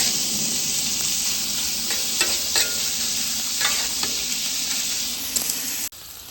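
Ribeye steak searing on a hibachi griddle, a loud continuous sizzle with scattered scraping strokes and small pops, ending in a sudden brief drop, no talking.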